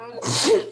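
A teacher's single sharp sneeze during a classroom art lesson, a short loud burst with a voiced tail, quickly followed by a student speaking.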